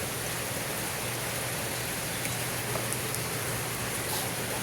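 Steady rain falls over covered fish breeding tanks, a dense, even hiss of water that continues without a break.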